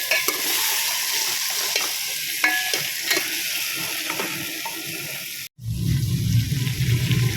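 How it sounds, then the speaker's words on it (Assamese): Mutton curry stirred and turned in a pan, a continuous wet sizzle and scraping that cuts off briefly near the end, then gives way to a lower, rumbling bubbling, with no talking. "এয়া পূৰা ধুনীয়াকৈ মিলাই দিলোঁ মানে পূৰা উল্টা পুল্টা কৰি দিলোঁ"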